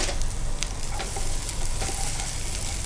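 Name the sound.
garlic frying in hot oil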